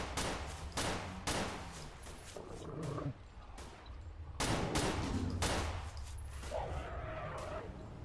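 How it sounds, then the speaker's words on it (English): Gunfire in the video game S.T.A.L.K.E.R. (Misery mod), several sharp shots cracking out in an irregular burst pattern, moderately distant and fairly quiet, with a low background rumble between them and no talking. "Who's doing the shooting?"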